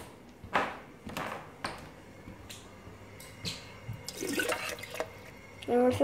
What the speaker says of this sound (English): I'm going to fill this up, and I don't want to get any water on the camera